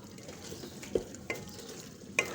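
Aloo baingan curry with coriander and whole garam masala being stirred in a pan, a soft low sizzle under a few distinct scraping and clinking strokes of the spoon, close and alone.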